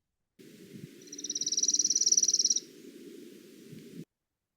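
Dry, rapid insect-like trill of a sparrow repeated about twenty times in a clean recording, rising then steady for under two seconds before stopping, over a low hum, with no voices.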